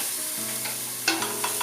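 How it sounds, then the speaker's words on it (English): Ginger garlic paste fries in a vessel over low heat with a steady sizzle, while a spoon scrapes and knocks against the metal several times in quick strokes. "Now add the ginger garlic paste. Stir them well."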